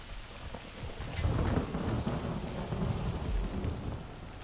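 Rain and rolling thunder in the video game The Texas Chain Saw Massacre, a steady broadband downpour with low rumbles swelling from about a second in and staying loud throughout.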